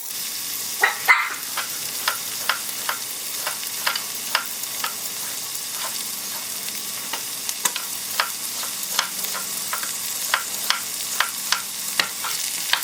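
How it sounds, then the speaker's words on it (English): Onions brown in a pot with a steady low sizzle, punctuated by regular scraping stirs of a utensil every second or so, close and clear. "While the onions are browning"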